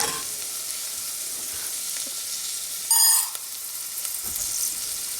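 White rice hits a hot pan and sizzles steadily, a close, continuous frying hiss with a brief louder burst around the middle.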